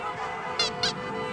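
Canada geese honk twice in quick succession at Westchester Lagoon in Anchorage, Alaska, sharp nasal calls rising over a steady background hum of a crowded flock of geese and ducks on the water.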